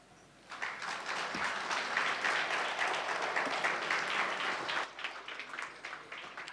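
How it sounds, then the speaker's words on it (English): Audience applause fills a gala dinner hall after a labour law seminar talk, a steady dense wash of many hands clapping for several seconds before tapering slightly, with faint murmurs underneath. "another round of applause, please"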